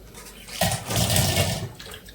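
Water runs from a tap while hands are washed, a short steady splashing stream that swells, holds, then tapers off, close and alone.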